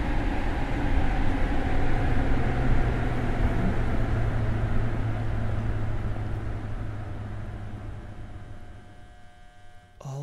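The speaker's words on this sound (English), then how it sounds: "Oh, the train stopped." In the Platform 8 video game, a train rumbles and hums as it arrives and slows at a platform, its steady low drone gradually easing before fading toward silence as it comes to a stop.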